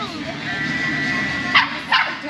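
A dog in a street setting in Nuevo Tarqui, Ecuador gives two short, close barks near the end, with people talking throughout.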